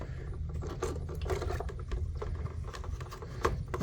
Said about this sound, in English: take out the 2 screws for the axle